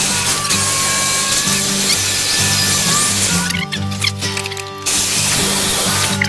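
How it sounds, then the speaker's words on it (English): A drill with a 1/8 inch bit bores a pilot hole into the frame of a 2020 Ram 2500 Cummins pickup during a leveling kit install, a close, continuous buzzing whine with a short dip in the middle. "an 1/8 inch drill bit to drill that pilot hole"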